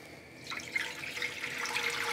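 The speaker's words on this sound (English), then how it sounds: "we're gonna fill it with water" Tap water runs into a soup pot being filled to make vegetable soup, a steady splashing rush that starts after a brief pause and keeps flowing, close and moderately loud.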